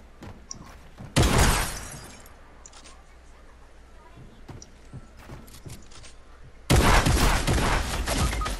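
Bursts of gunfire from the Fortnite video game, two loud dense volleys of rapid shots with lighter scattered pops between them, while a player talks excitedly.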